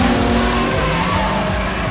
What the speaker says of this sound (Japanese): ものすげえブレーキングドリフト。